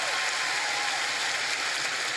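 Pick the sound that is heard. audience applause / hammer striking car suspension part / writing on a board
audience applause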